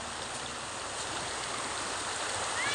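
Steady rushing of flowing river water, broad and continuous, close by with no voices.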